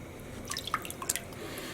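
White vinegar is added to violet-dyed water for dip dyeing yarn, giving soft scattered drips and small splashes of liquid against a quiet background hum.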